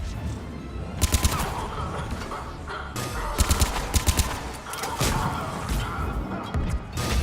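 Rapid gunfire from a gun in the video game Mass Effect 3, with bursts of shots and sharp cracks over a busy, loud combat background of impacts and game noise.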